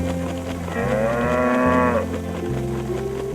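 Cattle mooing nearby: one long, loud, drawn-out moo rises and falls over a low, steady lowing, with no talking.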